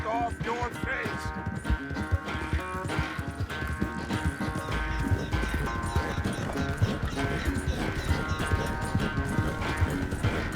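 A horse gallops in the video game Red Dead Redemption 2, a busy run of hoofbeats mixed with music and game sound, with voices talking over it.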